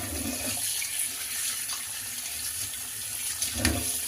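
A kitchen sink tap runs steadily while tomatoes and vegetables are washed, a constant close rush of water with faint splashes and a brief clunk near the end, with no talking.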